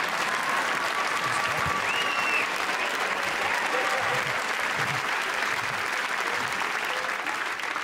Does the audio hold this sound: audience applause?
yes